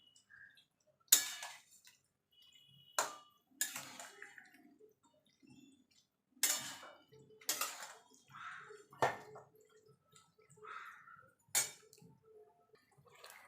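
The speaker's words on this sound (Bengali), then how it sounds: "এবার কুমড়ো শাকটা ভালো করে মিশিয়ে নেব মশলার সঙ্গে।" A spoon stirs pumpkin greens into spices in a pan with a few sharp clinks and scrapes against the metal, separated by quiet pauses, close and moderately soft.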